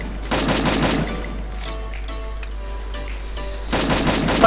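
Gunfire in a shooting video game comes in two bursts of rapid automatic shots, one near the start and another near the end. A quieter stretch of distant game sounds lies between them.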